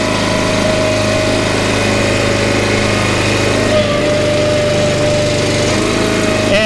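A Split Force 11/16T firewood processor, its heavy-gauge steel log lift worked by foot pedal, runs with a steady, loud engine drone and hydraulic hum throughout, with no talk.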